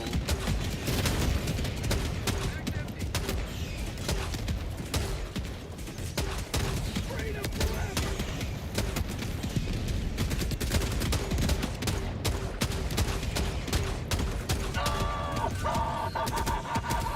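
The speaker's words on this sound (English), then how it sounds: "I like all the detonations going on." Dense, continuous battle noise from a bug-fighting video game: rapid gunfire and repeated explosions layered into a loud, unbroken barrage that runs the whole time, with no speech.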